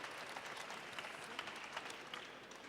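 Steady applause from an audience at an environmental business awards ceremony, a dense even patter of clapping held at moderate, fairly distant level throughout with no voices over it.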